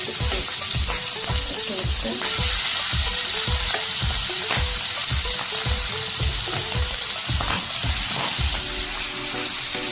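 Clams fry in hot coconut oil with curry leaves, a loud, constant sizzle broken by a rhythmic run of scraping stirs against the pan, close up and with no talking.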